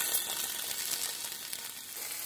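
Paneer sizzling in hot oil in a pan, a steady bright hiss close to the ear with no talk.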